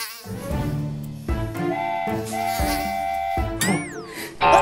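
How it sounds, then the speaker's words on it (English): Mosquitoes buzz with a whining, wavering drone in a children's pretend-play scene, layered over music-like tones and shifting in pitch, fairly loud and close. "I had enough of the mosquitoes."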